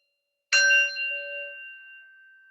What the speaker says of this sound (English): taking the sound of the bell